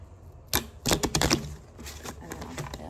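A tarot deck cut in half and shuffled by hand, giving a few quick clusters of papery snaps and riffles close to the microphone, then fading to quieter rustling.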